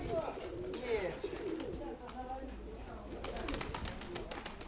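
Several pigeons coo softly in a loft, their throaty calls overlapping with flutters and rustling, while people talk quietly nearby.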